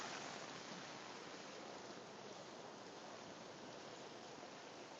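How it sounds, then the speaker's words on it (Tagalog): A river flows with a steady, dense broadband rush of water that stays constant and fairly faint throughout, with no voices heard. "Yung ilog to."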